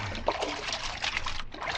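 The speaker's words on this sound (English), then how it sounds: "now lean on that paddle" A boat paddle pushing through water in a radio drama, a continuous close wash of trickling and splashing liquid over a short stretch.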